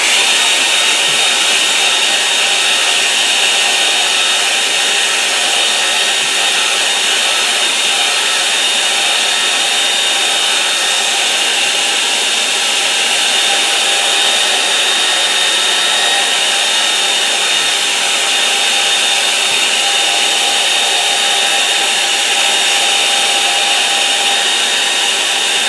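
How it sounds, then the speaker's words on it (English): A hair dryer blows steadily on a watercolour moorland painting, a loud, constant whirring hiss with a faint whine that runs unbroken throughout, with no voices. "I'm going to dry it now"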